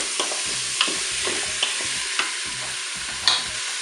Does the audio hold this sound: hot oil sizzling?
yes